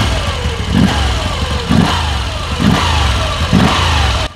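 Air-cooled 850cc V-twin of a Moto Guzzi V85 TT motorcycle revving, loud and close, with four rhythmic throttle blips rising over a deep idle.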